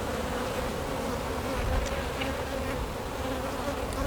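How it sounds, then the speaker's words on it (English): Dense, steady droning hum of many honey bees swarming around an opened hive during a hive check, close and continuous with no pauses. "And Mr. Sam, there's not a lot of bees, but a lot of bees outside too"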